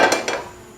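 A metal pan set down on a kitchen stove, giving two quick clanks close by, with a short metallic ring fading after them.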